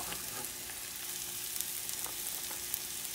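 Sofrito sizzles and crackles steadily in a pan on the stove, a close, even frying hiss with occasional stirring.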